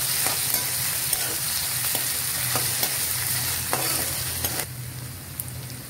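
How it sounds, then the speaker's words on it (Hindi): Ginger garlic paste fries in a pan for reshmi paneer, a dense continuous sizzle with intermittent scraping strokes of stirring, the hiss easing near the end; no one speaks. "अब हम इसमें डालेंगे अदरक लहसुन पेस्ट, थोड़ा सा मिक्स करेंगे।"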